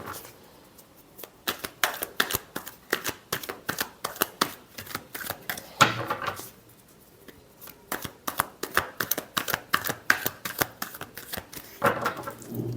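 Tarot cards riffle-shuffled by hand in quick, crisp clicking bursts, close and clear, with two short pauses between rounds and no talking.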